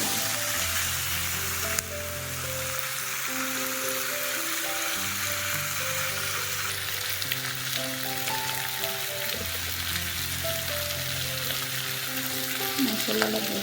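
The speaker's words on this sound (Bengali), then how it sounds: "এখন চানা আলুগুলো দিয়ে দিই। এগুলো একটু কষা নেবো এখন।" Chickpeas and potatoes fry in a pan, a continuous loud sizzle with steady crackling, punctuated by a sharp clink early on and occasional stirring scrapes, with background music running underneath.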